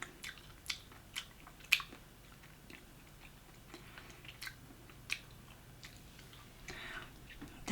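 Spicy pickled cabbage is chewed close to the microphone, with quiet crunches and wet bites repeating every second or so against a hushed background and no talking.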